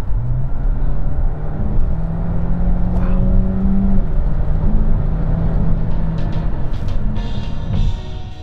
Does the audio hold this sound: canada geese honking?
no